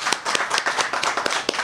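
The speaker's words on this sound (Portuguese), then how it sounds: "Vamos aplaudir o Senhor Jesus?" A church congregation gives a quick burst of hand clapping during a service, several sharp claps in an irregular rhythm, fairly close and steady throughout.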